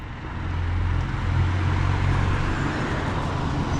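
A 611 route bus passes along Poseidonos Avenue in Paphos, its engine rumble swelling close by and holding steady as a broad roar of road noise.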